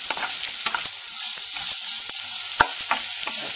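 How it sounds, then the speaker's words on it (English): Onions and garlic sizzle steadily in a frying pan for a beef rendang, with scattered scrapes and clicks of a spoon stirring them, close and continuous. "make sure you keep stirring it so that you don't burn the garlic or the onions"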